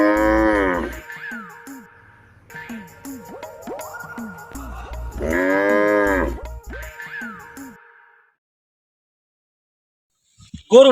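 A cow moos loudly and close by in two long, drawn-out bellows separated by a shorter lowing call, then falls silent before a brief sharp knock at the very end.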